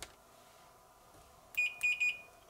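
A multimeter gives continuity-test beeps on a Pentium Pro AT motherboard that had a dead short, with one short high beep and then a quick cluster of beeps over a faint hum.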